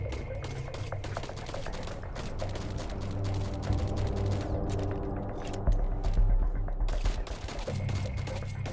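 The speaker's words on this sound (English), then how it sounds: "Where's this guy shooting me from?" Rapid, sustained gunfire in the game Sunkenland, with dense overlapping shots and mechanical clatter running steadily throughout and occasional heavier booms.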